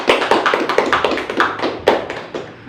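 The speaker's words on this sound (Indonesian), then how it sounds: "Beri tepuk tangan yang meriah" Applause in a classroom after two students' presentation during a realistic-mathematics lesson: a few hands clap in a quick, uneven rhythm, close and fairly loud, fading after under three seconds.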